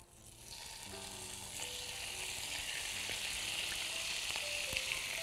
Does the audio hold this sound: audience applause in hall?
no